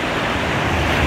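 Ocean surf at Myrtle Beach washes over a swimmer in shallow water, a loud, continuous broadband rush of churning water with wind buffeting close to the microphone.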